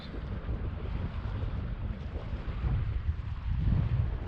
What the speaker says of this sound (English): It's real windy. It's blowing right into the bank.